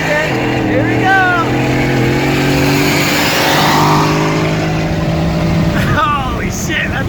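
A supercharged Ford F150 pickup accelerating hard in a street race against a Genesis, its engine roaring loud and close with rising pitch through the gears as it flies past, and a voice heard briefly near the end.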